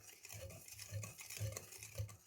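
Cake batter of butter, sugar and eggs is stirred by hand in a bowl, producing faint, soft rhythmic swishing strokes repeating roughly twice a second, close and quiet.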